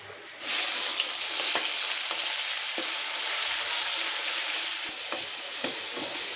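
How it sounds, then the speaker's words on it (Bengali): Steady, loud sizzling of chicken frying in a pan, a continuous hiss with occasional sharp crackles and pops, no voices. "মাংসটা আমি একটু ভাজা নিব হালকা"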